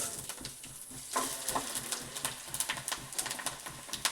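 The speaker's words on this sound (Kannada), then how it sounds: "ಬಿಸಿ ಆದಮೇಲೆ ಮೊದಲಿಗೆ ನಾವು ಮೆಂತ್ಯ ಕೊತ್ತಂಬರಿ ಕಾಳು" Fenugreek and coriander seeds sizzle and crackle in hot oil in a pan, a quiet, busy spatter of small pops close by.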